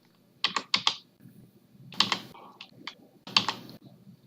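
Keys clack on a computer keyboard in short clusters of quick taps separated by brief pauses, close and crisp in a quiet room.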